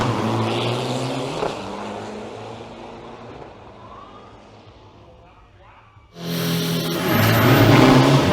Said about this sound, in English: That might be the second closest race that I've seen with these trucks.